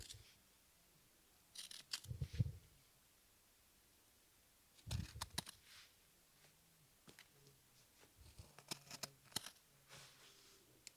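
Scissors snip around the seam of a flannel sleeve in a quiet room, several short bursts of crisp cutting and fabric rustle separated by pauses.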